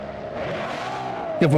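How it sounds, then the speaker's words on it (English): A video game car engine drones steadily, then jumps into a sharp, louder rev near the end, with a voice talking over it. "this car is well loud"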